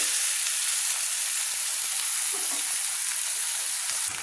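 Sliced onions frying with salt in a pan, heading toward golden brown, give a loud continuous close-up sizzle that stays even throughout.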